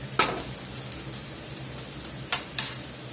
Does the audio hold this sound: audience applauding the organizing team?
no